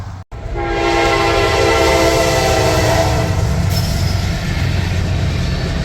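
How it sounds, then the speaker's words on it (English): A train rumbles loudly and continuously past a railroad crossing, its sustained horn blaring over the steady roar of the passing cars, close and dominant throughout. "As sometimes happens when I'm coming and going with boats, get stuck by a train."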